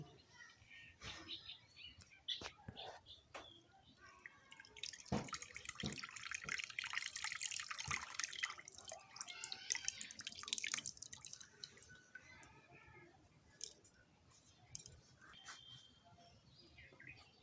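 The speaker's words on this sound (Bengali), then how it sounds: "তিলের চুচাগুলো উঠিয়ে নিয়েছি এখন ধুয়ে নিব" Sesame seeds are washed in water by hand, with soft splashing, swishing and dripping close by, faint and intermittent, louder in the middle stretch.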